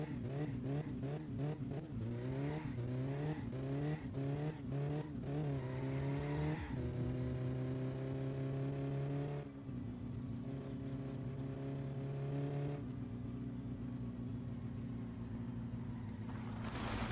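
An old car in My Summer Car skids out of control on a curve, its revving engine rising and falling in rapid gear-like sweeps before settling into a loud steady drone, with tire scrubbing throughout and no talk.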